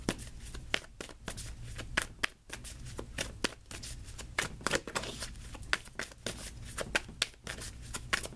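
Tarot cards shuffled by hand, a rapid series of crisp papery riffs and slaps in an irregular rhythm, close and fairly loud, with no talking.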